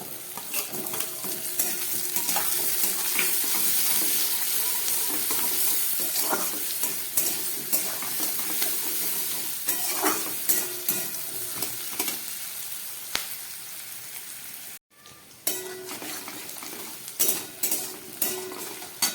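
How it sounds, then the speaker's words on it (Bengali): Cut potatoes fry with onion and cumin in an oily pan, steady close sizzle broken by repeated spatula scrapes and clinks against the metal pan, with a short gap partway through. "এবার এর মধ্যে দিয়ে দিচ্ছি কেটে রাখা আলু।"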